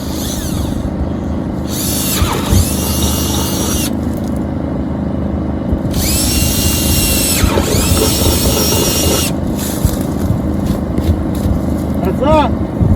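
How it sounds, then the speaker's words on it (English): A handheld power drill bores two holes through a box so a cable lock can pass through it, two sustained whining bursts with a pause between them, loud and close over a low rumbling background. "I got my drill and I'm going to drill 2 holes so I can run my cable lock."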